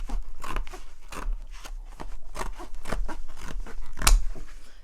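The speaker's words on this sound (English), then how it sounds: "you can take regular scissors and cut if you want" Regular scissors snip repeatedly through material in a steady rhythm of close, crisp cuts, with one sharper snap near the end.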